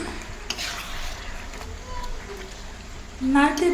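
Yogurt chicken is stirred and turned in a pan, with soft scraping and a gentle sizzle under a voice talking nearby; a louder stir comes at the end.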